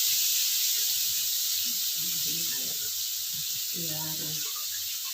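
Ground spice paste (bumbu halus) sizzles in a little reused hot frying oil for Javanese bacem, a steady bright hiss running throughout with faint voice and clatter underneath.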